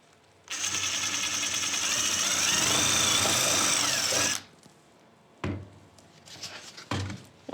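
A power drill whines continuously for about four seconds as it bores through tubes, then stops, followed by two brief shorter bursts.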